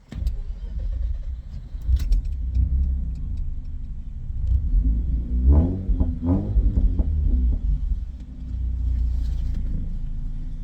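A Mazda RX8 rotary engine is started semi-hot with no throttle, then settles into a steady low rumbling idle with a brief revving flare midway, close inside the car.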